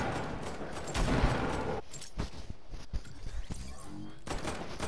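Shotgun blasts ring out in a video game, a heavy burst followed by several sharp, spaced shots, loud and close with mechanical clatter.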